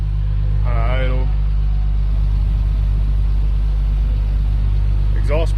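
A 2001 GMC crane utility truck idles with a loud, steady low rumble, while someone speaks briefly over the engine.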